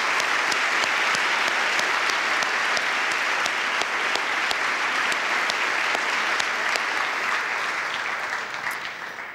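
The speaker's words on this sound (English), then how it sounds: "Give him a round of applause." Strong applause from an audience at a State of the City address, thick and even for most of the stretch before tapering at the very end.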